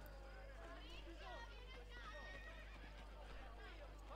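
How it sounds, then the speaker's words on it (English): Horses whinny and neigh repeatedly over a low steady rumble of hooves in the video game Assassin's Creed Brotherhood, close and fairly loud, with a voice speaking over them. "Keep hearing like horses."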